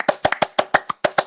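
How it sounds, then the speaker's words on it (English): Two podcast hosts clap in a quick, close, dry run of about nine sharp hand claps, slightly uneven in rhythm, with no other sound between them. "Another round of applause to both of us."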